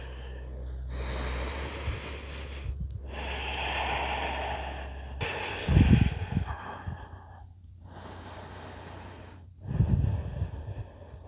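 Slow, deliberate yoga breathing: long audible inhales and exhales alternate in a steady rhythm, close and fairly loud, with a couple of sharper nasal exhales and no talking.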